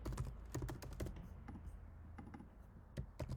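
Rapid, uneven clacking of keys on a computer keyboard as CSS code is entered, close and fairly quiet, with short bursts and pauses between keystrokes.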